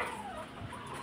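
Chickens cluck softly nearby in a brief burst of short, throaty calls.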